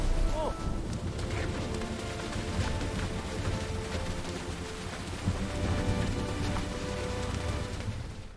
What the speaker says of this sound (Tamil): ஒரு நாள் பலத்த காற்றுடன் மழை பெய்ய ஆரம்பித்தது.